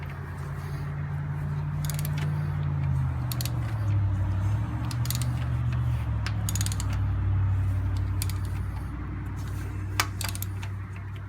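A Ford 2.3 turbo four-cylinder, as fitted to the SVO, Merkur, Pinto and Thunderbird, has its crankshaft turned by hand with the timing belt on. Steady low grinding drones under light ratcheting clicks and metallic ticks, close and continuous.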